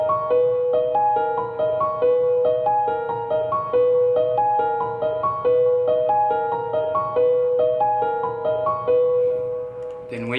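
A piano plays a repeating melodic loop for a trap beat, bright sustained notes in a steady, even pattern with no drums underneath, fading out at the end.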